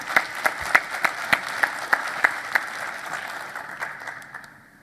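A conference audience applauds a speaker after a session on Office 365 anti-phishing protection, with loud sharp clapping from a modest crowd that thins out and fades over a few seconds.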